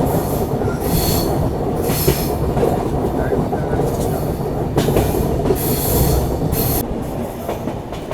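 The Poorvottar Sampark Kranti express rolls across the Digha rail-cum-road bridge over the Ganga, a steady loud rumble of wheels on track with repeated metallic clacks and hissing squeals, heard from inside the moving train.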